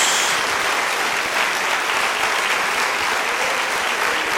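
A congregation claps steadily and densely at a Christian worship service, a continuous wash of hands filling the room for several seconds at an even level, with no speech over it.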